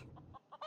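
Chickens cluck in the video game Ultima Online during a chicken fight, a few short, quick, clipped squawks in a row that end on a louder, harsher call.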